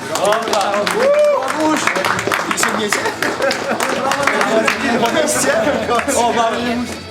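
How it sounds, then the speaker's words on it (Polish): Award ceremony applause at a League of Legends LAN tournament: sustained clapping from a crowd filling the room, with chatter and voices mixed through it the whole time. "Wielkie brawa"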